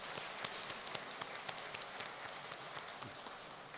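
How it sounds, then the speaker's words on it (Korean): A Korean church congregation at a Sunday service gives an energetic round of applause, heard faint and distant as a steady patter of many claps that resembles light rain. "힘찬 박수로 위로해 주시고 격려해 주시면 감사드리겠습니다"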